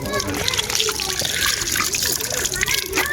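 Water gushes and splashes steadily at a Mahadev temple, a continuous pouring flow heard throughout with faint voices in the background.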